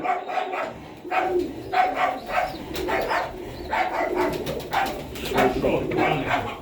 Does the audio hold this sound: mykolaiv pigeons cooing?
yes